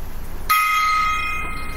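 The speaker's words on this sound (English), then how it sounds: "Gong time." A gong is struck once. The sharp metallic hit rings on with bright sustained tones that fade slowly, standing loud over a quiet room with no talking.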